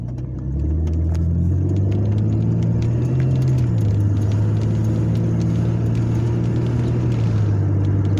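Cars roll past on a city street in Chester, Pennsylvania, a loud, steady engine rumble close by with a rising and falling drone and no pauses.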